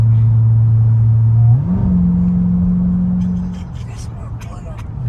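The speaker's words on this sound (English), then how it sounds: "So y'all heard the engine rev." A car engine in sport mode with a Soler performance throttle controller revs up steadily, its pitch climbing and then holding at a higher drone before easing off, close and fairly loud.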